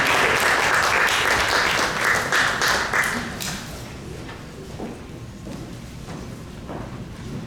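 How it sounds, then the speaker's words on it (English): An audience at a UN Day of Peace event applauds, with loud, dense clapping at first that gradually thins and softens to scattered claps by the end. "Please let's give her a round of applause."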